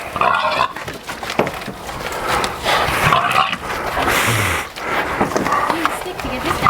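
Hogs grunting and squealing as they are loaded on a homestead, loud and continuous, with a voice urging them along over the commotion and some metallic clatter.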